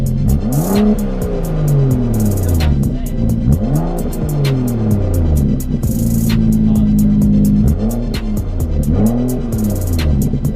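A BMW 435i with the N55 engine and a muffler delete revs repeatedly in sport mode, loud close blips rising and falling in several bursts with crackling pops between them.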